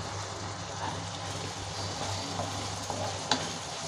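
Chopped tomatoes with salt fry in a pan, a quiet, even sizzle with a low background hum and an occasional faint clink of a utensil.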